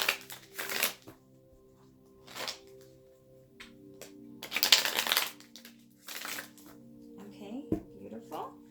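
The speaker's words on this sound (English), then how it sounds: "Shuffling 2 more times." Tarot cards being shuffled in several quick rustling, riffling bursts, close and moderately loud, separated by short pauses, over a faint steady hum.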